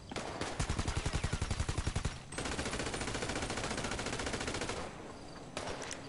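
Sustained automatic gunfire in GTA Online: a long, loud, rapid rattling stream of shots, with a short pause after about two seconds before firing resumes, then a few final shots near the end, and no talk.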